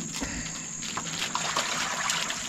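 Hydrogen peroxide poured from a jar into a copper-cleaning mix of citric acid, a steady close trickle and splash of liquid over a constant high hiss, no talking.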